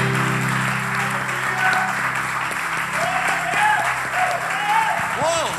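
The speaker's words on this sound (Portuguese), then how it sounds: "Aplauda ao Senhor, Jesus." A church congregation bursts into sustained, lively applause, many hands clapping together over a held keyboard chord, with a voice calling out above the crowd.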